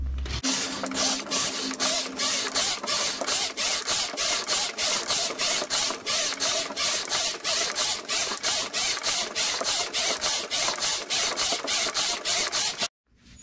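Knitting machine carriage swept back and forth in straight rows on a cabled vest, a steady run of rapid ratcheting clacks at a regular rhythm, close and loud for about twelve seconds before stopping.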